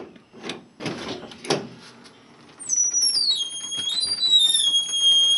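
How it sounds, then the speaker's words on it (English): The door of a Dixie Narco 501E soda vending machine is opened with a few loud clunks and rattles, followed by a sustained high warbling electronic tone that carries on to the end. "First thing I would do is I would open this machine up."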